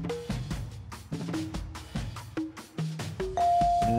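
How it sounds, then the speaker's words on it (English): A quiz-show bell closes the round at a high school quiz show, a run of bright, ringing tonal chimes that sound one after another at a quick, uneven pace before a final sustained tone, loud and alone. "so that's the bell that ends the round"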